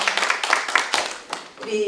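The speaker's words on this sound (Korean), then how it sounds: "다시 한번 박수 부탁드립니다" A brief, close burst of audience clapping at a public forum on transport fare support, a dense patter of hands that rises and then thins out within two seconds.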